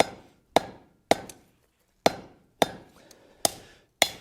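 A hammer strikes copper stock being forged into a spatula and ladle. About eight sharp metallic blows land at an irregular pace, each ringing briefly before the next, with quiet gaps between strikes.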